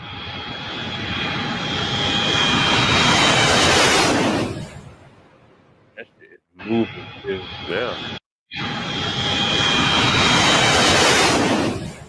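Fighter jet engine roaring steadily in the cockpit, a loud broadband rush with a high whine, dropping away briefly mid-clip while people talk over it, then returning at full strength.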